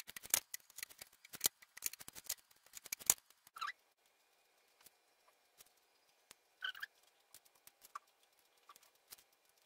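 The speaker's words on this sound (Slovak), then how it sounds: "Nastriham lepiacu pásku." Scissors snip adhesive tape, a cluster of sharp crisp cuts and crinkles early on, then sparse faint snips and rustles with long quiet gaps, close and quiet with no talking.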